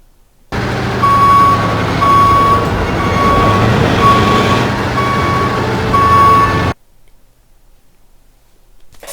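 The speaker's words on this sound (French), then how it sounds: "quand vous vous éloignez des sentiers, le jeu vous remet dessus avec ce bruit de camion" A truck's reversing alarm in a tank video game, a loud engine drone with regular electronic beeps repeating about once a second, stopping abruptly into near silence.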